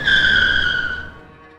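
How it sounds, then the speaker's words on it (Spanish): A car brakes hard on a highway at speed, giving one loud, high tire screech that holds for about a second and then cuts off, leaving a low rumble. "Frené bruscamente"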